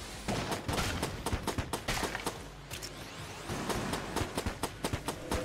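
Hegemony rifle with laser sight firing in Enter the Gungeon: rapid, evenly spaced sharp shots in steady bursts with a brief pause midway, loud and close over a busy game soundtrack.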